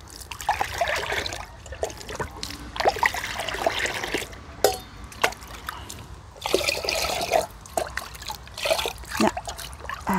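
Homemade liquid fertilizer trickles and splashes steadily onto potted succulent plants, close and uneven, pouring in bursts with brief pauses.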